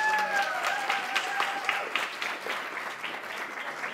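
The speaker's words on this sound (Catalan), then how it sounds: "Donem un fort aplaudiment" Audience applause at a Catalan presentation event in a bar, steady clapping of a moderate crowd sustained over several seconds, fairly close with bright busy texture and no pauses.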